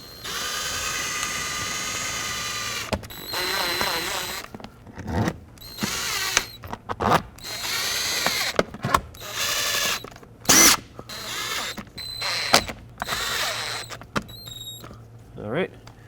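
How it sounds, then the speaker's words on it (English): A power drill drives screws while a seat switch is fitted in a 2007 Chevy Silverado Classic. Loud, close whirring comes in a long first run and then in short repeated bursts, with a voice speaking between them. "Slide it into place and go ahead and start in all your screws."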